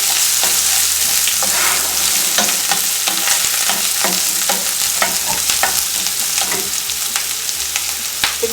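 Green chillies sauté in an oiled pan while making poha, with a loud, steady sizzle and repeated clicks of a spoon stirring and scraping. No one speaks.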